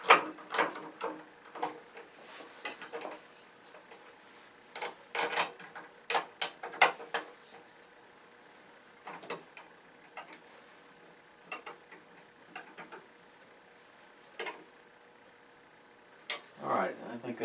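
35mm jaws mounted and tightened on a woodturning lathe chuck: scattered quiet metallic clicks, ratchet-like ticks and clinks in short bursts, close by with near-silent gaps between them.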